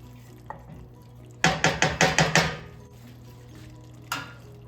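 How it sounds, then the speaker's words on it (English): A ladle of soup goes into rice cooking in a pan for supplì al pomodoro, giving a quick run of six or seven close, splashy pours and stirs, followed later by a single brief clatter over a low steady hum. "so we'll add another ladle of soup"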